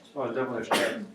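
A sharp sneeze bursts out in a classroom during a lesson, one quick loud sneeze cutting through ongoing talk from several people.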